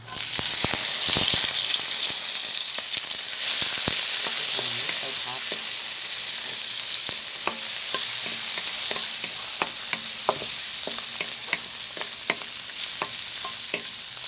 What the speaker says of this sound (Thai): ผัดกระเทียม